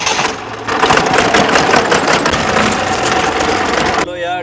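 A tractor engine runs with a loud, steady mechanical drone and a rattling, rapid pulse, holding constant before cutting off abruptly near the end.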